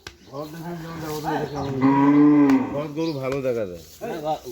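A cow moos several times in long, deep, drawn-out calls that rise and fall in pitch, loud and close, with no one talking.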